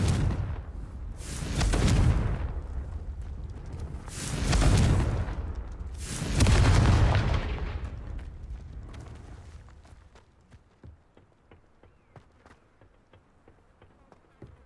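Three booming blasts swell and fade in quick succession as a Confringo fire spell explodes in the Hogwarts Legacy video game, each rumbling roar loud and full, followed by quieter scattered crackles and clicks.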